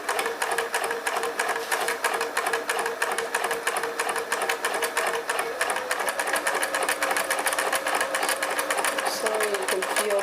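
A sewing machine stitching a seam through three layers of a pillowcase with trim, a loud, steady, rapid needle chatter running throughout while a person talks.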